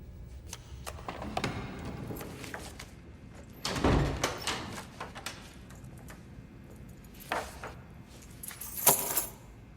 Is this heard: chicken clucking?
no